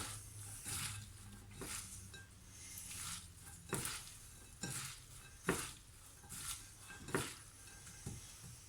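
A utensil scrapes and clinks against a pan as ingredients for a fried bonito dish are mixed. The strokes come in slow, irregular repeats at a quiet level, over a faint sizzle.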